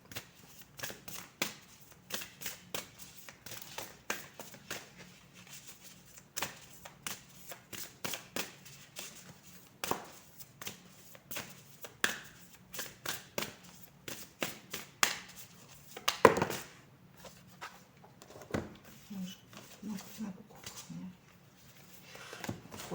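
Tarot cards are shuffled by hand in a quiet room, with many soft, rapid papery flicks and taps repeating unevenly over a long stretch and a few louder slaps of the deck.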